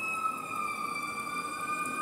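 An ambulance siren near a busy hospital, a faint, distant, steady wail that holds for a couple of seconds without obvious pitch sweeps, alone over quiet background.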